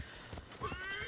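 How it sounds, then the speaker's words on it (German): A horse whinnies in the Assassin's Creed Origins video game, a single close neigh of about a second rising and wavering over a steady low background of game ambience. "Ist aber auch irgendwo ein Pferd gewesen."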